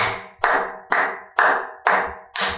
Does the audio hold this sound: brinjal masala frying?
no